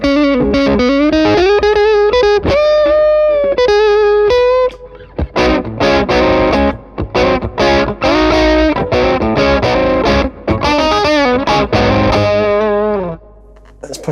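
An electric guitar plays through a Dumble-style overdrive pedal, with gritty sustained chords and notes, loud and continuous, with brief pauses between phrases.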